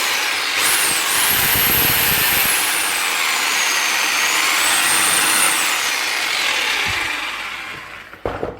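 A rotary hammer drill in hammer mode runs with a loud, continuous high whining motor and a rough rattling edge, steady for several seconds before cutting off with a few clunks.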